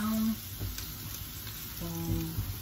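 Seafood and vegetables sizzle and brown in a hot pan, a steady close frying crackle with faint stirring scrapes and a brief soft voice.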